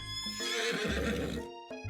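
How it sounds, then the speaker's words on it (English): A horse gives a loud, drawn-out neigh lasting nearly two seconds, followed by a brief second whinny at the end, with no talking. "Oh, he's riding in on a horse."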